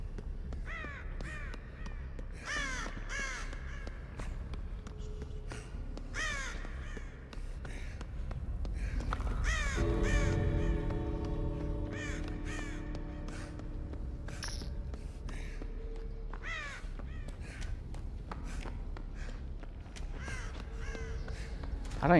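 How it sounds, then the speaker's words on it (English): Crows caw repeatedly in the game Dead by Daylight-style match against Michael Myers, harsh, scattered calls over a low background hum, with a sustained tonal drone swelling in the middle. "crows were flying over there"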